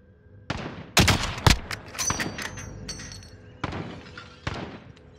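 Gunfire in Call of Duty crackles in loud, sharp bursts, a rapid volley early followed by scattered metallic clangs and single shots that fade into softer echoes.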